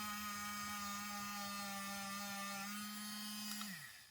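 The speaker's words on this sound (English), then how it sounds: "It's nice low revs, cotton polisher on it, and it's got 3 different speeds" Small handheld rotary tool spinning a cotton polishing wheel at low speed on a 1/48 Meng F/A-18F model kit, a steady close whine that holds evenly, then winds down at the end.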